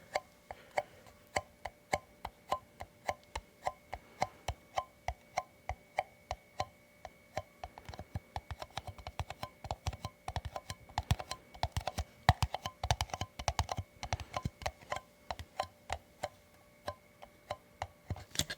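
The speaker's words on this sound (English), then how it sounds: "It's just a basic plastic cup, but it makes nice sounds." Basic plastic cup being handled and tapped up close in a quiet room, a long run of crisp, light, irregular clicks and taps that speed up and cluster toward the middle, with no talking.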